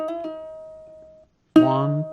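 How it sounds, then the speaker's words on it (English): Plucked ukulele notes: a hammer-on pull-off combination, a quick pair of fretted articulations ringing into one sustained tone, a pause, then another plucked note rings out. "a hammer-on pull-off combination"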